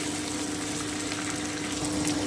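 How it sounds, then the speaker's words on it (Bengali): Egg frying in a pan with bottle gourd leaves and potato, giving a steady, continuous sizzle with a faint hum underneath and no talk. "ডিমটা দিয়ে দিলাম আমি একটুখানি ভেজে নিচ্ছি"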